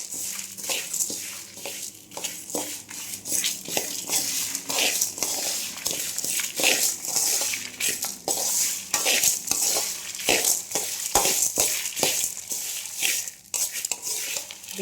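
Curry leaves, dried red chillies and black urad dal dry roasting in a pan for idli podi, with steady close stirring, scraping and light clattering of a spoon against the pan throughout.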